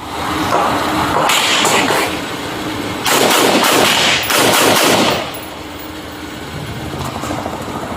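Gunfire during a police shootout with a suspect in a street intersection: loud bursts of rapid shots come in two dense clusters over a constant engine-like rumble, then a quieter stretch follows.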